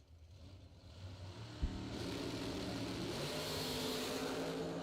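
At a bracket racing event, a dragster launches down the strip: a sharp burst of engine noise, then a steady, sustained roar that holds loud to the end.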